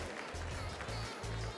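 A crowd claps for a team at the Sirha Cheese & Chef contest. The applause is a faint, uniform patter under a droning low hum throughout the brief stretch.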